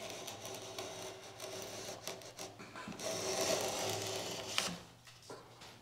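An edge banding trimmer cuts along a wooden finger joint against the grain, giving a faint, rasping scrape with intermittent clicks and a slightly louder grinding stretch near the end, with no voices.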